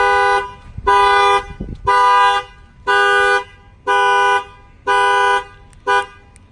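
A Nissan Rogue's factory car alarm blares after the keyhole is banged on, sounding a loud, harmonically rich horn-like tone in six evenly spaced blasts about half a second each, with brief knocking thuds early on.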